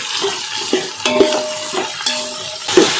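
Aubergine, tomato, potato and cauliflower pieces are stirred in a pan for masale bhaat, with repeated scraping strokes of a spoon over a light frying sizzle, close and fairly loud, no talking.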